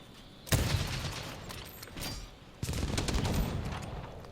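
Special ammo fires in Monster Hunter World: Iceborne, with sharp blasts and crackling bursts of gunfire, a heavy hit at the start, a smaller one mid-way and a louder sustained volley toward the end.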